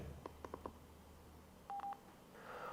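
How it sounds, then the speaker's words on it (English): Several short electronic beeps from a motorcycle Bluetooth headset confirming pairing, first a quick run of four tones, then a brief pair of sustained boops, quiet and close. "Once you hear the headset make a boop boop sound, you know that you've connected."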